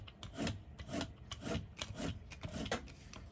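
A roller passes back and forth over paint texture on a card, making a soft, rhythmic rasping rub that repeats about every half second, faint and close with no voices.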